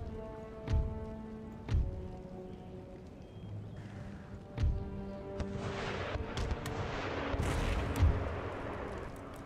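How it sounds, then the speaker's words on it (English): Mortar artillery fire on a battlefield in Empire Total War, the Louisiana campaign: several deep, separate booms land at uneven intervals over a quiet ambient bed, the later ones wrapped in rumbling noise. "Mortars have opened up."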